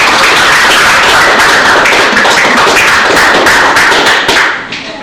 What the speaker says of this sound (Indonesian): Boleh tepuk tangan sekali lagi dong semuanya